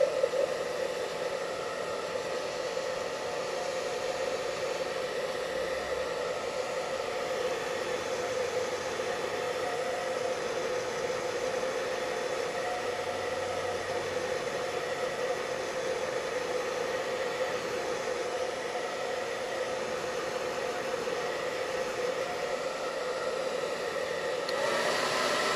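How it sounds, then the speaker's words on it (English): A hair blow dryer runs continuously for the whole stretch, a steady close whooshing roar of air that drying craft foam, with no talk over it. "I took my blow dryer, blow dry it a little bit"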